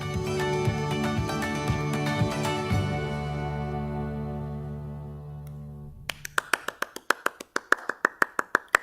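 A handful of sharp, evenly spaced hand claps during an online community board meeting, starting after a stretch of music and ringing out alone, fairly thin and close to the microphone.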